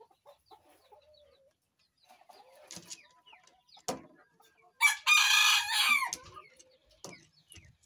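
An Ayam Cemani rooster at a chicken contest crows loudly once, a long harmonic cry, with scattered clucks and faint background noises around it.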